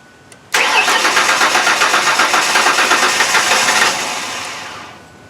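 Rebuilt engine of a 1999 Ford Explorer cranking over dry with the fuel pump off, a sudden start of the starter motor's steady rhythmic churning pulses for about three seconds, loud and close, then fading away without catching.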